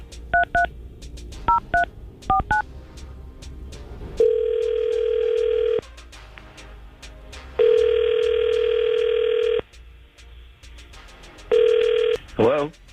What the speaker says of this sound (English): We're going to try to call Thomas and see if we can get him on the phone.